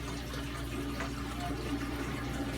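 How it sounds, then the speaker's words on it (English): Saltwater aquarium water trickles and gurgles steadily as it is siphoned out during gravel vacuuming, a faint continuous flow with no voices. "I am removing 10 gallons of water and vacuuming at the same time."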